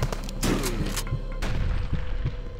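Grenade explosions in the shooter HROT, a rapid cluster of sharp booms and thuds in quick succession, loud and close, with rattling debris between blasts.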